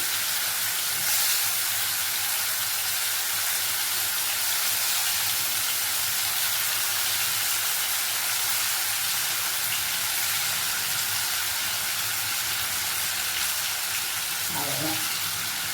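Anchovies sizzle steadily as they fry in a pan, a continuous close hiss with faint stirring and a brief clatter near the end.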